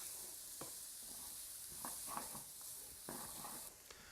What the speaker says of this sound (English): I just want to cook these until they're slightly translucent